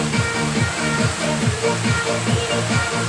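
Cassava juice squeezed from grated cassava and dripping, heard as a steady watery rush with a faint rhythmic pulse underneath, close and fairly loud throughout.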